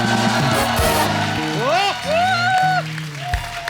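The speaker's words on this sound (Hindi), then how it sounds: "माधुरी दीक्षित जी के लिए एक बार जोरदार तालियां हो जाए" Studio audience applause on a Hindi TV comedy show, a crowd clapping under a blaring musical sting with swooping tones and a brief cheer, loud and continuous throughout.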